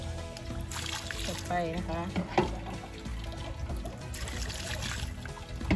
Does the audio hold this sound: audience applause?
no